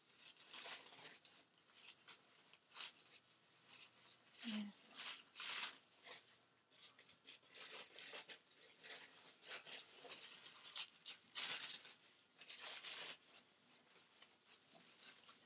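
Surface layer peeled off Tyvek-like paper, a series of dry crinkling, tearing rustles in close, uneven bursts over several seconds, with quiet talking in between.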